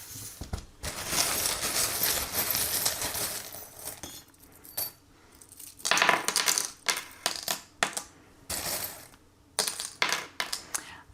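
Small divination charms are tossed and scattered in a card-reading session, giving bursts of metallic clinking and rattling that come in several separate clusters, close and fairly loud, with no voices.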